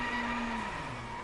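A car's tires squeal in a sustained drift in the racing game Driveclub over a droning engine, the pitch sliding slowly downward as the slide continues.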